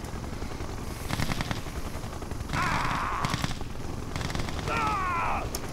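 A siege chopper helicopter in the real-time strategy game Red Alert 2 firing in bursts, with rapid gunfire rattles repeating over a steady rotor-like drone and other battle noises mixed in.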